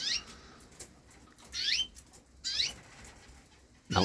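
Raza canaries in a birdroom give several short, bright chirping calls in separate bursts, close by and fairly clear, with a sharper burst at the end over a quiet room background.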